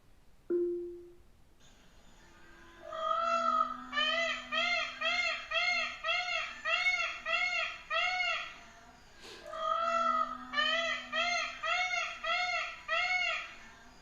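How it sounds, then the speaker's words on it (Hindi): A smart speaker plays a recorded peacock call: a long string of loud, repeated wailing cries in two bouts, preceded by a brief electronic tone. "मोर की आवाज निकालो।"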